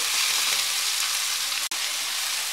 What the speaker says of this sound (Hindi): प्याज के साथ टमाटर को भी हमने तकरीबन 1 मिनट के लिए सोटे कर लिया है मीडियम फ्लेम पर।